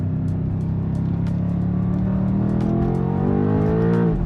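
A 2025 BMW M5 accelerates hard on a track, its engine note climbing steadily in pitch, loud and close, then dropping sharply at a gear change near the end. No voices are heard.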